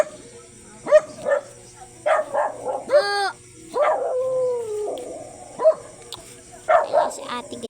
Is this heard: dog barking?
yes